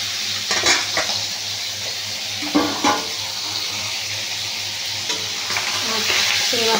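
Singhi fish frying lightly in a pan, giving a steady soft sizzle with a few brief stirring scrapes and clinks. No one talks.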